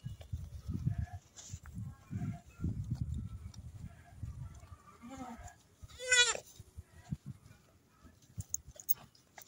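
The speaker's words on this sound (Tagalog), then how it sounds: "Kambing." Goats bleat in a rural province pasture, with one loud, wavering bleat standing out near the middle. Scattered shuffling and chewing-like noises surround it, and soft rustling fills the gaps.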